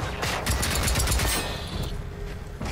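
Rapid pistol shots crack in quick succession in the video game Generation Zero, loud and close in a short burst that fades into lighter trailing noise.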